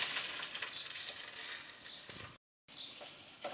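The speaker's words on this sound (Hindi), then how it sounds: "लहसुन और अदरक के कुछ पक जाने पर अब मैं डाल दूँगी इसमें ये 1 अदद प्याज जो कि मैंने बहुत बारीक कट की है" One medium onion, chopped very fine, sizzles in a pan with partly cooked garlic and ginger, a constant close frying hiss broken by a brief silent gap.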